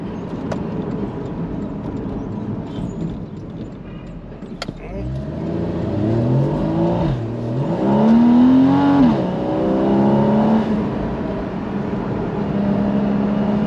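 Porsche Boxster flat-six engine accelerating hard from a low idle, its rising whine climbing through the gears with a shift near the middle, loud and close from inside the car.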